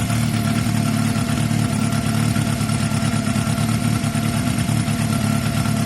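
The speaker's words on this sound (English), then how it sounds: "Honestly, guys, the bike's sounding really healthy to me" Steady, close idle from a Honda CB250 bobber motorcycle engine, a dense even putter that holds at the same loud level throughout with no revving.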